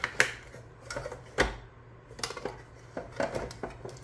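HOM all-in-one vegetable chopper working through vegetables, giving sharp plastic clacks and thuds in an uneven series of about ten hits, close and fairly loud with short gaps between strokes.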